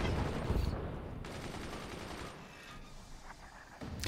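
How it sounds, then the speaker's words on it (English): Cannon volley fire in the artillery video game Forts: a dense, loud burst of overlapping booming shots at the start, then a rolling, crackling barrage that tails off, with another sharp hit near the end. "I think volley fire is the way to go"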